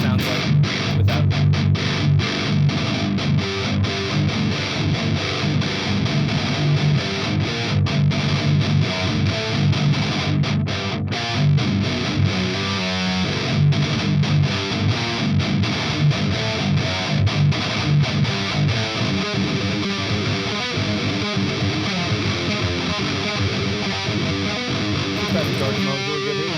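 An electric guitar plays through an Angle Fireball 25 amp with no overdrive pedal engaged, a continuous, dense tone with steady strummed attacks lasting the whole stretch, loud and close.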